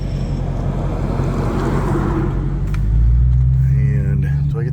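A garbage dump truck passes close by on a road, its heavy engine rumble swelling louder midway, then falling off, heard from inside a moving car over its own engine drone.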